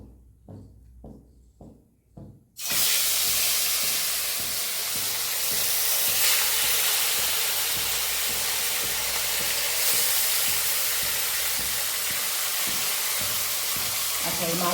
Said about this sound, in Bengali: এখন এখানে আমি নুন আর হলুদ দিয়ে এই মাছগুলো এখন ভেজে নেব।